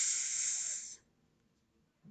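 A single voice imitates two lightsabers clashing with a sharp, hissing 'kss', loud and close for about a second, then it falls silent.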